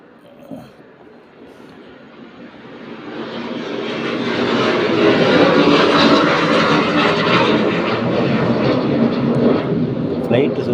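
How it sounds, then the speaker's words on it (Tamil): An airplane circling overhead, its engine drone swelling from faint to loud and holding as a broad, steady roar, with a person talking underneath. "ஃப்ளைட்டு சுற்றினே இருக்கிறதுனால சவுண்ட்ஸ் உங்களுக்கு அதிகமாக இருக்குது"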